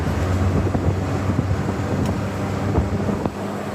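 Steady wind rush and a low engine drone come from a 1993 Toyota Dyna pickup cruising in fourth gear at about 80 km/h, with faint road rumble and an occasional light knock.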